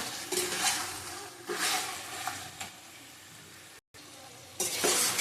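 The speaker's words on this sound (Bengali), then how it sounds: "আলু ভেজে রেখেছিলাম আমি আগে বাড়িয়ে বাড়িয়ে কষিয়ে নেব" Chicken and potatoes sautéing in a pan for a lightly spiced chicken curry, giving steady sizzling with bursts of stirring and scraping. The sound drops out for a moment near the end, then the frying comes back louder.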